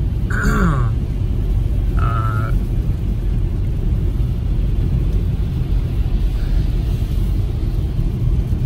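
A 2021 Ford Mustang Mach-E AWD driving on wet, slick, snowy roads, with a steady loud low rumble of tires and road noise throughout, broken by a couple of brief squeaky grunting noises early on.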